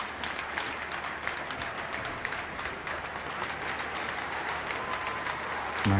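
Continuous applause from a big gathering at the Palermo state funeral for Falcone and his escort, dense even clapping heard at a distance throughout, with faint murmurs underneath.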